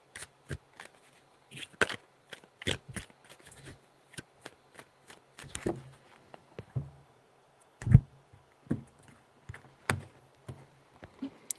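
Tarot cards being shuffled by hand, a run of sharp riffling clicks and soft slaps in uneven bursts, close and fairly quiet with pauses between.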